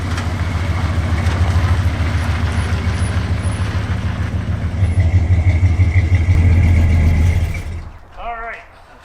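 A worn-out Ford F250 truck engine idles roughly with a steady low rumble that swells louder near the end, then cuts away as a voice speaks briefly.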